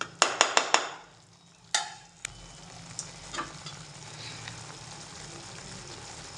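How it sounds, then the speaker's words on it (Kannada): Ground masala paste for cashew curry sizzles in a hot pan, opening with a quick burst of sharp spatula clacks, then a steady, soft frying hiss with occasional stirring scrapes close by. "ಒಂದು ಸ್ವಲ್ಪ ಹಸಿ ವಾಸನೆ ಹೋಗಲಿ ಅಂತೇಳಿ ಸ್ವಲ್ಪ ಫ್ರೈ ಮಾಡ್ಕೊಳ್ತಾ ಇದ್ದೀನಿ ಅಷ್ಟೇ"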